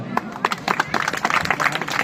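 An audience at an outdoor community gathering claps in a quick, uneven burst of applause, while a voice speaks over the clapping.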